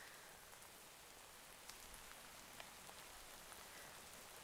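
Steady video game rain pattering over a surface, a dense even hiss with scattered sharper droplet ticks throughout and no voices.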